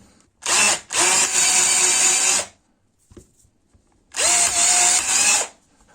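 A 12-volt cordless drill on a homemade battery, set to high speed, whines in two close bursts, then falls silent for a moment before spinning up once more, loud and near.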